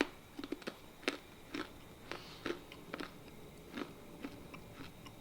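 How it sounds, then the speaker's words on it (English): Dried banana pieces crunched between the teeth, a dozen or so sharp, close crunchy bites and chews spaced irregularly over quiet, with no talking. "if you guys can hear the crunch, that's actually the banana"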